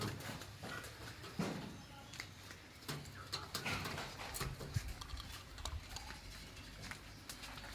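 Racing pigeons coo softly in a loft, a low, quiet murmur mixed with wing flutters and scattered clicks and knocks, while someone talks nearby.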